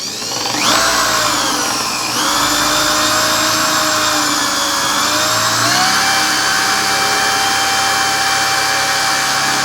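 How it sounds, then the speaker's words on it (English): A power drill spins up and bores continuously through wood held in a dowel jig, its high motor whine shifting pitch as it bites into the wood. "So all I'm going to do now is drill it."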